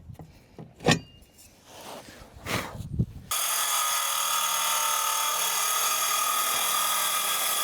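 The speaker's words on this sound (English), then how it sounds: "Have to finish that off with the Sawzall" A Sawzall reciprocating saw roars on suddenly and runs continuously while cutting through deck lumber, preceded by a few sharp knocks and clatter of work before the saw starts.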